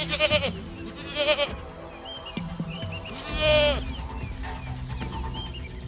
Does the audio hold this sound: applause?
no